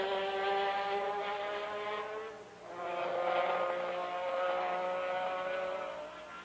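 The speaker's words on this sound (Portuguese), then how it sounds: "Aí você sente o ronco do motor." Formula 1 racing car engines roar past at the Brazilian Grand Prix, a loud sustained high-pitched whine that dips briefly and swells again as cars pass, with no talk over it.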